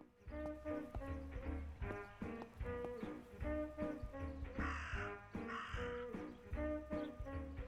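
A raven in the video game Martha Is Dead caws twice in harsh, rasping calls over a steady, rhythmic music or ambient bed, the calls standing out clearly at moderate volume.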